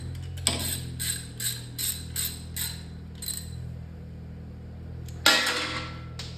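A ratchet tightens a bolt on a 1959 Impala during power steering pump and alternator work: a series of close rhythmic clicking strokes, a pause, then a louder final burst over a steady low hum.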